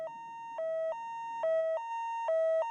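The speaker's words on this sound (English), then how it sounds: "Oh, they do come on with a siren still." A vehicle siren in the MotorTown: Behind The Wheel video game sounds a steady two-tone electronic wail, alternating high and low notes in a regular pattern, clear and alone with a faint low rumble fading early.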